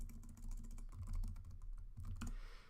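Keys clacking steadily on a computer keyboard as a command is typed, a quick run of close, crisp keystrokes with no talking.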